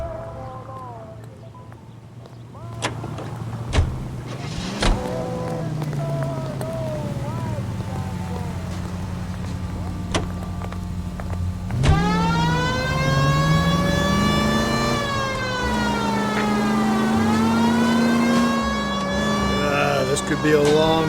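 A 1940s car is driven through Los Angeles in the game L.A. Noire, a steady engine hum running throughout that rises into a loud, wailing police siren in the second half, with a few spoken lines over it.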